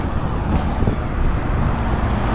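Gusting wind buffets the microphone outdoors on a drive with a heavy load toward a district town, a loud continuous low rumble filling the whole stretch.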